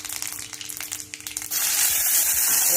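Cumin and mustard seeds hit hot oil, a few scraping, crackling sounds first and then a sudden broad, steady sizzle that rises loud and close for the rest of the moment.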